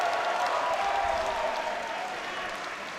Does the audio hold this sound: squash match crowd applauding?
yes